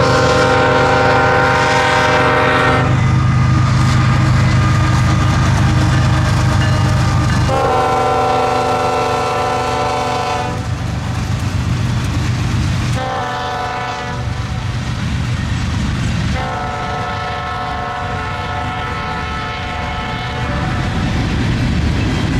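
A freight train led by two GE ES44 locomotives with an SW1500 in tow sounds its horn in several long chords separated by short gaps, over the heavy rumble of the passing train.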